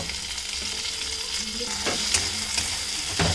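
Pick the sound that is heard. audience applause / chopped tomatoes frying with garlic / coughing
chopped tomatoes frying with garlic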